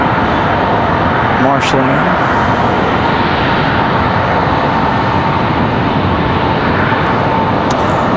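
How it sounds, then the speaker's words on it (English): A Republic CRJ jet airliner rolls out after touchdown at Raleigh-Durham International Airport, its engines giving a loud, steady roar that fills the whole stretch, with a brief voice passing over it. "Nice smooth touchdown for Republic. The CRJ"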